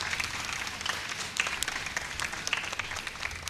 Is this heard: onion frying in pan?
no